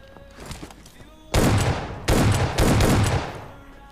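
Loud shotgun blasts in the mobile battle royale game PUBG Mobile, two or three heavy booming bursts with long rumbling tails following a quieter stretch of faint game ambience.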